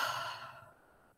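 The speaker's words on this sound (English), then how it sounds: "and out through your mouth" A person breathes out slowly through the mouth during a guided mindfulness exercise, a soft, airy exhale that fades gradually over about a second with no talking.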